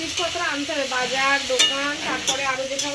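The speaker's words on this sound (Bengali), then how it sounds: "রিফাইন তেল দিয়ে রান্না করছি" Food frying in refined oil in a pan gives off a lively, crackling sizzle, close and steady, broken by soft stirring scrapes and a few sharp clicks; a voice murmurs faintly beneath.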